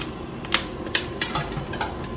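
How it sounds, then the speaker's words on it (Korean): Coffee beans roasting at home in a very hot pan give off quick sharp cracks, five or six pops in two seconds, over a steady background hiss. "파핑 소리 들리시죠?"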